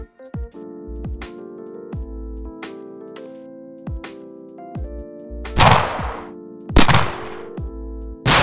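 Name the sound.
adaptive gun firing sound designed in Wwise for a game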